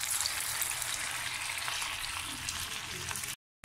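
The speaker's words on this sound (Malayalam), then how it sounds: "അപ്പം നമ്മുടെ എണ്ണ നല്ലോണം ചൂടായി വന്നിട്ടുണ്ട് ഇനി നമുക്ക് ഓരോ വടകളായിട്ട് അതിലേക്ക് ഇട്ട് കൊടുക്കാം" Rava vada pieces frying in hot oil in a pan, giving a steady, loud, close crackling sizzle that holds throughout, with a brief dropout near the end.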